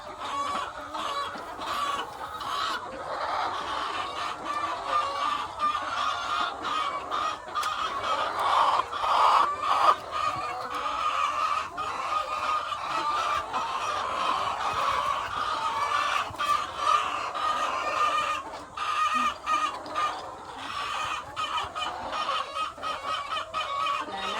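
Hens cluck steadily and densely throughout a cage-free chicken house, a continuous flock chorus with occasional louder calls rising above, close and fairly loud, with no talking.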